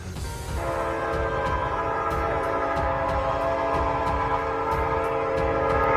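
A freight train in the Sahara Desert rumbles past loudly and continuously, its horn sounding a sustained, multi-toned blast throughout over the heavy rolling clatter of the cars.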